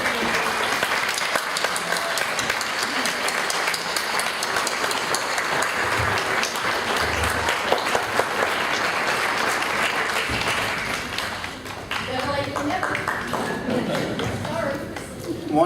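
A loud convention crowd claps and cheers steadily throughout, a dense continuous wash of applause at a nostalgia fan convention, thinning slightly toward the end.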